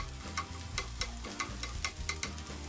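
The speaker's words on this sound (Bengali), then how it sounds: "তারপর কুচি করা পেঁয়াজগুলো দিব ও নাড়াচাড়া করে নিব" Chopped onions stirred and fried in a pan, a steady sizzle under repeated sharp scraping strokes of a spatula at a quick, fairly even rhythm, close and moderately loud with no voices.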